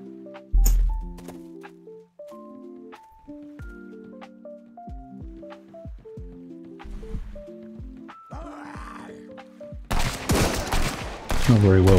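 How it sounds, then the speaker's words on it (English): A gun firing in the survival video game Sunkenland: a sharp burst early on, then a dense rattle of rapid shots near the end, with tonal game music and effects playing throughout. "See how this gun does."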